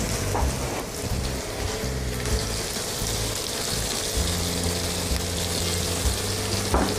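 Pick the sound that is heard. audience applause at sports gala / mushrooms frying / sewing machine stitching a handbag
mushrooms frying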